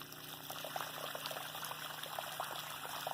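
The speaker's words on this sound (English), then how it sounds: "fill it up with water" Water poured into a freshly dug planting hole for an avocado tree, a steady trickling, splashing pour that runs continuously at close range with no talking.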